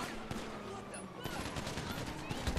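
Rapid bursts of gunfire crackle through a GTA 5 Online shootout, a six-versus-two fight, with shots overlapping steadily amid game noise while a voice talks over the action.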